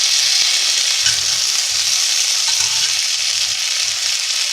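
Potatoes frying in a pan for aloo ki sabzi, a loud continuous sizzle with the soft rhythmic scrape of stirring repeating about once per second underneath.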